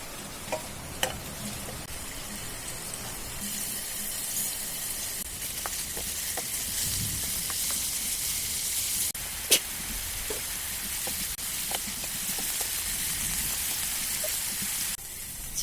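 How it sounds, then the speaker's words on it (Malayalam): Chicken frying in oil in a pan, a sustained close hiss and crackle with occasional sharp pops and a few stirring clicks, steady throughout and free of talk. "അതിലേക്ക് കുറച്ച് ഓയിൽ ഒഴിച്ചിട്ട് നമ്മുടെ ചിക്കൻ ഒന്ന് ഫ്രൈ ചെയ്തെടുക്കാം"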